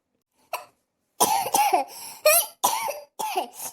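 A run of harsh, hacking coughs, one short cough followed by several heavy bursts in quick succession, close and loud with no talking.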